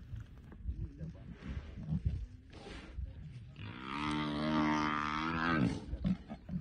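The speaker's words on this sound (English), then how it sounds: "this poor buffalo has been trapped between this lion pride, and the buffalo is crying for help" A Cape buffalo bellows long and loud while being attacked by a lion pride, a drawn-out harmonic cry lasting a couple of seconds, with grunts, rustling and nearby human murmurs around it.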